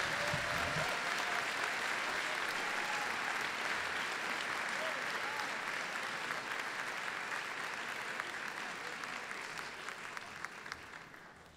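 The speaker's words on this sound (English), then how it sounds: "How about one more round of applause?" Broad, sustained applause from a large audience at a university performing arts graduation ceremony, loud and continuous before gradually thinning out toward the end, with a voice faintly underneath.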